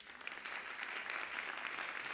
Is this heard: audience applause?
yes